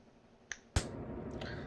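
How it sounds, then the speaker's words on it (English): A single crisp finger snap, sharp and close, with a smaller click just before it and a quiet room tone after. "I'm going to snap my fingers"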